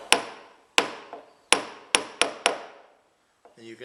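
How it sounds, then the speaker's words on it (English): Sharp hammer taps on a nail into a model railway track sleeper, six irregular strikes in quick succession, close and crisp, each ringing briefly before the next. "you can hear the sound it makes when the nail hits the sleeper"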